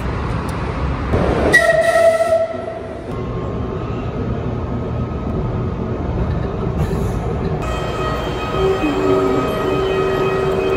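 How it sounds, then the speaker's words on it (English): Ride aboard the Monterrey metro in Mexico: a loud steady rumble of the train car with a squealing screech early on and tonal whines from wheels and motors as it runs, no talking. "We always see the really nice metro running through Monterrey, but we've never used it before."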